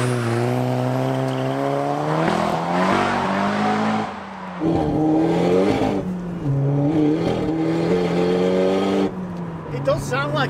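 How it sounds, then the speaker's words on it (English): A car engine revs hard and loud, its pitch climbing and dropping through gear changes, with tire noise mixed in throughout. "It does sound like a rally car."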